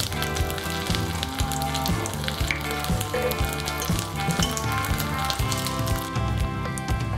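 Pearl spot fish wrapped in banana leaf fries in a pan, giving a loud, continuous sizzle with popping crackles close up, while background music plays with no talking.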